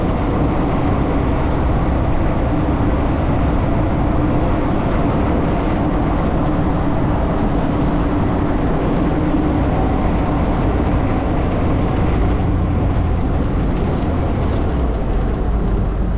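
A 1987 AM General Humvee HMMWV on the move, its steady engine and road rumble droning loud and close throughout with no break, like riding inside the cabin.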